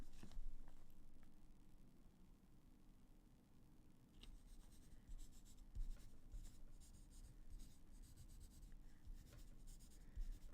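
Quiet pen or pencil scratching on paper as a number is written by hand, soft intermittent strokes over a low background hum with no talking.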